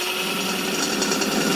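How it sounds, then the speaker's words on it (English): A power drill with a stainless steel bit bores into a metal pan, giving one continuous whirring, grinding drone up close for the whole short burst. "I'm just going to drill this"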